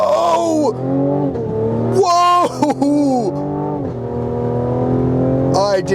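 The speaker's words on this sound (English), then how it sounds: "So let's see how it gets off the line. Let's do a little bit of a brake stand." A 2020 Cadillac CT5 with a twin-turbo V6 and rear-biased all-wheel drive does a brake-stand launch, its loud engine roaring and rising in pitch through repeated gear-like sweeps, heard from inside the cabin with a voice briefly over it.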